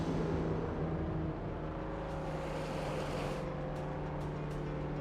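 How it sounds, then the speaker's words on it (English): The Mezga turbo car engine from a video game runs in a steady, dense drone, holding a constant pitch with slight variation, loud and alone without talk. "The Mezga turbo engine sounds sexy."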